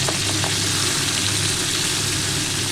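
Chopped tomatoes frying in hot oil alongside pabda fish, a loud, close, continuous sizzle and crackle throughout with no talking.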